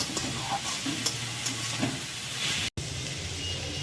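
Steamed, drained bottle gourd peels stir-frying in a pan give a steady close sizzle and hiss with scraping stirs, cut by one brief dropout near the end.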